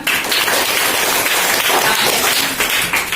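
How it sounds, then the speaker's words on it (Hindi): Schoolchildren in an Indian government school classroom applaud a classmate, a dense, steady wash of many small hands clapping at once, close and loud throughout with no pause. "चलिए इनके जोड़े तालियां"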